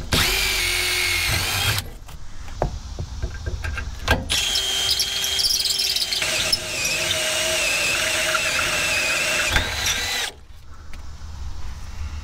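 Cordless Milwaukee M12 drill boring a 9/16 hole in a Jeep TJ suspension part, with loud sustained motor whine in bursts, a short run then a long steady spell before stopping, no talking.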